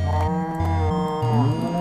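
A cow in the Minecraft video game moos in a series of low, tonal calls, close and clear, with several sustained pitch steps rising and falling and no talk.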